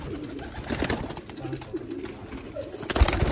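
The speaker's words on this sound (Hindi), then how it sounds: "देखो कबूतर" Pigeons kept in a rooftop loft cooing softly and intermittently, low throaty calls scattered among faint background rustling and movement, with a few louder thumps near the end.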